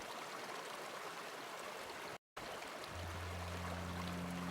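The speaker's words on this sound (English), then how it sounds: "As for the Baker River, it is the largest river in Chile by water flow." Baker River, a glacial Chilean river fed by melting Patagonian glaciers, rushing in a steady broad wash of water with a brief silent break and a low engine-like hum joining near the end.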